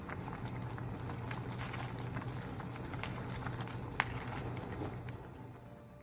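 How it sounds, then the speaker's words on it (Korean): Clam soup with sea salt, pepper, hot green chili and green onion simmers at a steady, soft bubbling boil throughout, close by with no voices. "천일염 3분의 1스푼, 후추, 청양고추, 대파를 넣고 한 번 더 가볍게 부르르 끓여주세요"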